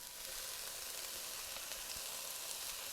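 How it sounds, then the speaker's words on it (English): Onions, celery and peppers sauté in a skillet, giving a steady, even sizzle that holds at a constant level throughout with no voices. "So I'm going to let these saute for just a couple minutes until the onions become translucent and the peppers and celery begin to soften."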